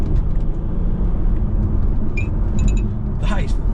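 Mercedes E350 pushed hard in third gear, a loud, steady, deep engine and road rumble throughout, with a few faint chirps near the end.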